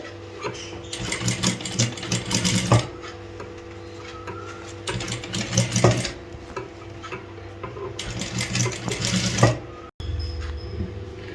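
A sewing machine stitches a fabric sleeve in three separate runs of fast, rattling needle clatter, each lasting one to two seconds, with quiet pauses between them.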